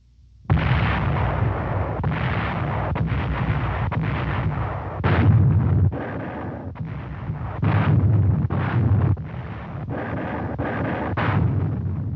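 A WWII artillery barrage of some 2,000 guns supports the Rhine crossing on the front of the American 30th and 79th divisions: loud, continuous rolling booms and overlapping blasts, surging in heavier bursts, with no voices.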